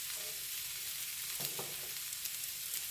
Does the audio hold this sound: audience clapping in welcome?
no